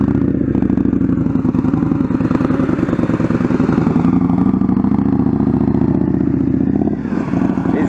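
A motorcycle engine held at a steady throttle during Ride Like a Pro low-speed riding practice, a loud close mid-pitched thrum with slight rises and dips and a brief change near the end, with no talking.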